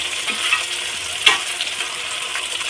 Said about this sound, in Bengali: তো এবার বেশ কিছুক্ষণ কষিয়ে নেবো